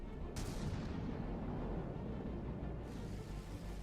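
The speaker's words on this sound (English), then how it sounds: "Firing a lone torpedo." A torpedo is fired in the naval combat game From the Depths, a loud, sustained broadband whoosh and rumble with a sharp rise near the start, heard alone.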